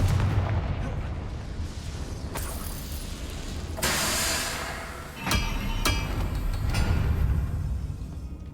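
A Confringo fire blast spell explodes in the video game Hogwarts Legacy, with loud booming bursts and crackling impacts over a dense, rumbling battle backdrop.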